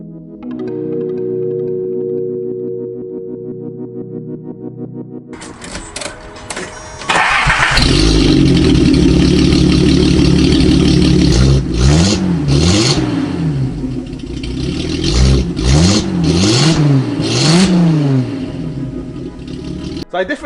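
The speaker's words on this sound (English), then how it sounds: "I definitely like the way this car sounds with no muffler but with resonator" A Datsun 280Z with straight pipe and resonator, muffler removed, cranks and fires up, then barks through several loud throttle blips and revs over a rumbling idle, close by.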